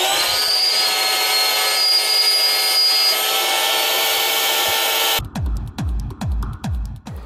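An Intex Quick Fill electric air pump inflates a boat with a loud, steady, whining motor drone close by. After about five seconds it cuts off and a series of rhythmic, thumping pulses follows.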